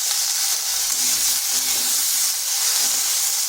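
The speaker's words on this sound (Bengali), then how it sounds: "ঢেঁড়সগুলো নেড়ে চেড়ে একটু হালকা ভেজে নেব।" Okra fries in a pan with a loud, steady, close-up sizzle and hiss, broken by faint scraping from stirring.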